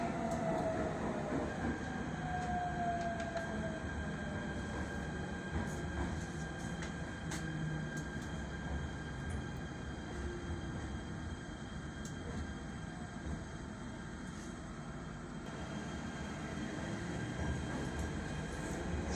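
Steady rumble of a Jakarta MRT train riding from Blok M toward Lebak Bulus, a continuous loud hum and rattle inside the carriage with a faint high whine over it.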